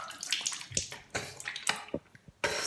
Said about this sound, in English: Let's wash it off with warm water.